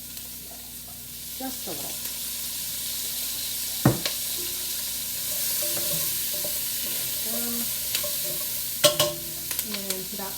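A pot of beef stew with olive oil sizzles softly as a spoon stirs, scraping and knocking against the sides in scattered sharp clacks; a voice speaks briefly over it.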